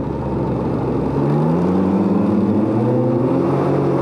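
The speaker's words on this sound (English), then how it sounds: "See, I'm spinning right there, just non-stop." Can-Am Ryker three-wheeler spinning its tires on the road, a loud, steady engine drone that steps up in pitch and holds a continuous revving whine, close by.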